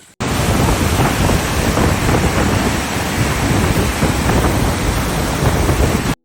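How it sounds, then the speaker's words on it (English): A steady, loud roar of falling water from an Icelandic waterfall fills the whole stretch, broad and unbroken like heavy rain, with no voices. "you can see the waterfall up there"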